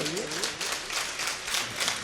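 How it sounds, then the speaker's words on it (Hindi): An audience claps steadily for the poet Jameel Khairabadi at a gazal gathering, with a dense patter of applause running throughout and a voice speaking briefly over it at the start. "दोस्तों आप भी अपनी तालियों से जरा हौसला अफजाई और बेदारी का सबूत देते रहिए।"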